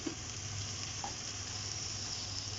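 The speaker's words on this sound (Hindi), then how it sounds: "अब हम इसमें डाल देंगे अपने नूडल्स।" Noodles sizzling and frying in a hot pan for a spicy chatpata noodle dish, a steady close crackling hiss throughout with a faint stir or clink near the start.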